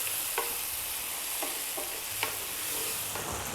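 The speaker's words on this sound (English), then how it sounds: "And then we're going to cook that out for about 5 minutes on this medium heat." Tomatoes and red wine cooking down in a pan over medium heat, a steady close-up sizzle and bubble broken by several short scraping stirs.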